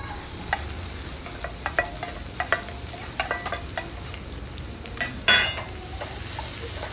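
Cumin seeds roasting in hot oil with cinnamon in a pan, a steady close sizzle broken by scattered clicks and taps of stirring, with one louder clatter near the end and no talking.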